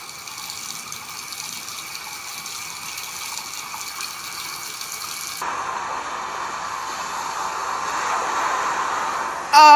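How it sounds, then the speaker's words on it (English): A sink tap left running in a cartoon school, a steady hissing gush of water that grows gradually louder and shifts character midway, ending in a short burst of a different sound. "I will leave the sink running until the school is completely covered in water."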